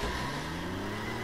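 Engines of a Mercedes and a Hummer racing in the video game The Crew, a faint, steady droning hum with sustained engine tones and no talking.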